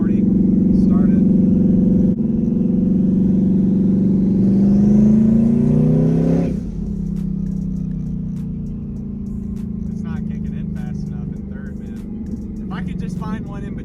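A 1000hp drag car brake-boosting from about 2,500 RPM, loud steady engine drone rising in pitch and pulling hard, then dropping to a lower rumble as it settles, heard from inside the cabin with people talking over it.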